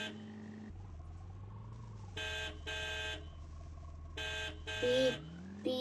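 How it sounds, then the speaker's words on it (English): A car horn in the Roblox Bloxburg video game gives several short electronic beeps in an uneven rhythm, steady and fairly loud over a low humming engine tone that rises and falls. "Why'd you make that type of horn, Copus?"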